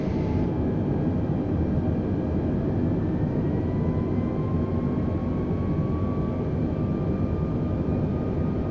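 Simulated Airbus A320neo flaps extending during approach into Phoenix Sky Harbor in an American Airlines livery, heard as a steady whining hydraulic tone rising slowly in pitch over a loud, continuous roar of engine and airflow, with no talking.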